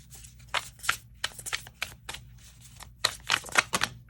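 Tarot cards are shuffled in quick riffled bursts, a run of crisp flutters with brief pauses between them, close and fairly quiet.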